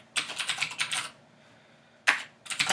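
Quick bursts of typing on a computer keyboard while entering terminal commands, close crisp key clicks in two rapid runs separated by a short pause.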